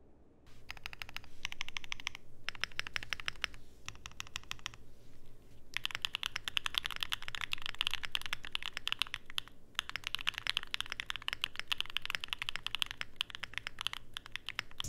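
Rapid typing on a Mode Tempo mechanical keyboard with Obscura keycaps and Coley switches, close and clicky in quick bursts separated by short pauses, with no voices.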